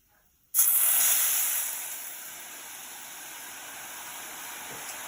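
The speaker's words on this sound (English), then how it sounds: "Now I'm just going to add about a cup of water" A sudden loud hiss erupts as about a cup of water hits a hot pan of rice, then settles into a steady sizzling hiss that slowly fades.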